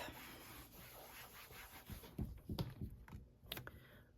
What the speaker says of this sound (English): I just use my fist and a little bit of pressure and push down and rub all over this stamp